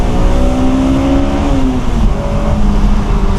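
A Honda S2000 engine revs hard up toward a 9,000 rpm redline as its VTEC engages near 6,000 rpm, a loud, continuous rising howl with steady harmonics close by, alone without talk.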